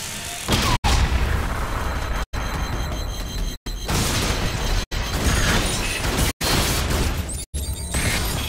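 Breach charge blast in Call of Duty: Infinite Warfare, a loud, dense roar of explosive rumble and debris that fills the clip, sharply broken by several brief silent gaps.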